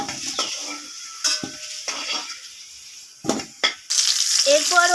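Fried potatoes are lifted out of hot oil into a bowl, with sharp metal clinks and scrapes of a utensil against the pan over a soft sizzle of frying oil, in irregular bursts.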